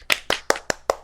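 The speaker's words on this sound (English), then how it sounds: "Mikhail, you're not gonna clap?" Five crisp hand claps in a quick, even rhythm, close and dry, from someone in a small podcast room, each sharp strike decaying briefly before the next.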